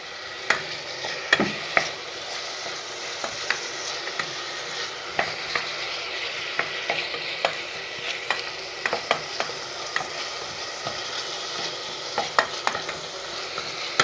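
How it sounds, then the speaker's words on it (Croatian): Spaghetti with sardines and tuna being stirred in a pan, with a steady soft sizzle of frying throughout and repeated sharp clicks and scrapes of the utensil against the pan at an irregular pace, close and clear, with no voices. "Ste vidite kako to mešam."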